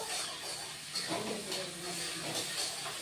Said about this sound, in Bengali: আলুগুলিও ভেজে নিচ্ছি